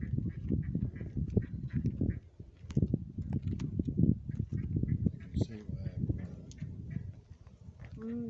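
Ducks quacking outdoors by water on a windy day, a continuous chorus of nasal calls close by, mixed with someone talking over them.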